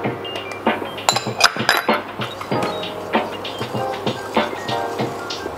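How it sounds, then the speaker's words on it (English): A whisk clinks rapidly against a bowl, beating egg yolks until pale for a Snickers-bar dessert. The taps are close, sharp and irregular. "So just whisk it enough until it's pale"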